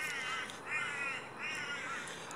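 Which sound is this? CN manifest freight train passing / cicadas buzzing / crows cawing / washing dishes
crows cawing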